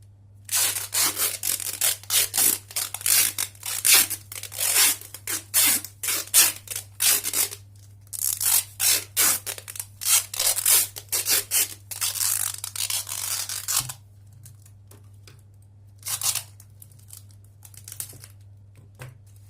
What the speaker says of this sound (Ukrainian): Далі оцю частину ми всю замотуємо скотчем.